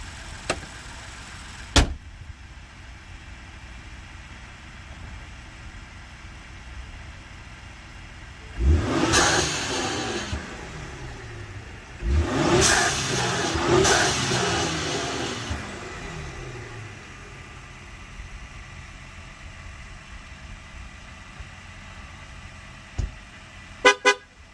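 A 2020 Ford Explorer ST with the hood down revs its engine in several bursts, rising and falling pitch sweeps clustered in the middle, moderately loud and close, surrounded by quieter idle, with a few sharp clicks near the start and end.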